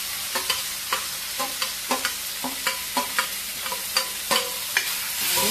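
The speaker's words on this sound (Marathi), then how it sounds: "भरीत आपलं छान असं परतून घेऊ" Mashed roasted eggplant being stirred and sautéed on a hot griddle with a ground paste of onion, garlic and chili, village-style. Soft sizzling sits under a regular rhythm of spatula scrapes and taps.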